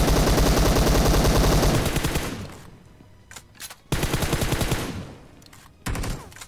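Rapid gunfire from a shooting video game: a long loud burst of automatic fire, then a lull with a few sharp shots and two more short bursts, with no talking.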